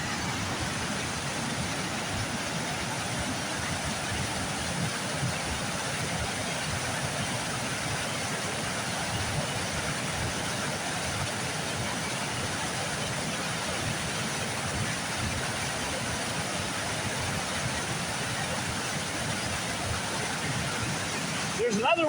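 Austin Falls pours in a constant, loud roar, an unbroken rush of falling water that stays even and close throughout.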